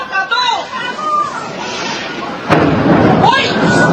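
A sharp explosion bursts out midway in Israel, followed by a rumbling roar, amid a noisy crowd of panicking residents with agitated voices and shouting in the street.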